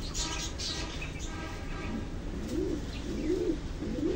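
Pigeons coo softly in low, rolling calls over a steady background hum, with a few faint chirps and rustling.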